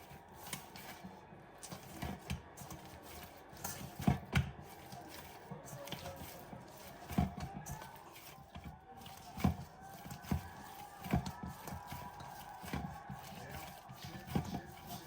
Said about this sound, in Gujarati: હવે થોડું ઓઇલ નાખીશું અને થોડી વાર એને મસળવાનું છે